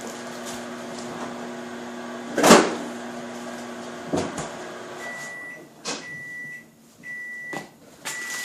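A microwave oven runs briefly to melt marshmallow for a s'mores cake, giving a steady low electrical hum with a few clicks, then a series of short high beeps as it finishes.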